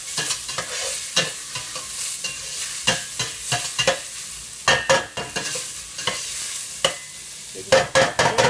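Garlic frying in butter is stirred with a big spatula for green chile chicken enchiladas with mushrooms: close, steady sizzling broken by repeated scraping strokes that come in uneven bursts, with no voices.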